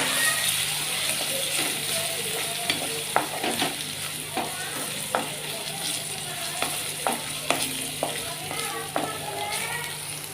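Onion, green chilli and ginger-garlic paste fry in a pan for restaurant-style palak paneer, a steady sizzle with repeated scraping clicks of a spoon stirring throughout, close and alone.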